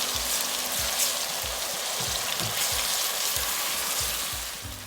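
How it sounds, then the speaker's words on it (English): Onion paste made from red onions fries in hot oil for a prawn curry, giving a steady, dense sizzle with soft low thumps from stirring, close and continuous. "To this I'm going to add the onion paste."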